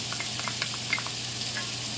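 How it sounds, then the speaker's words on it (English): Cabbage, bacon, onions and carrots sizzle gently in a pan, a steady close hiss with small pops and faint watery crackles, nobody speaking. "It's just got a nice little sizzle."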